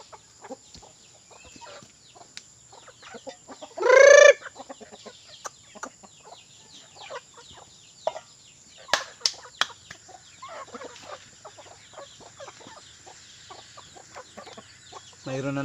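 Chickens cluck and chirp on a small farm with chicks among them, scattered calls near and far, one loud burst of squawking around a third of the way in and a few wing flaps, with someone speaking Filipino now and then.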